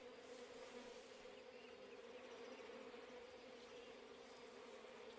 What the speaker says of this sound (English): I hear bees, but I don't see them.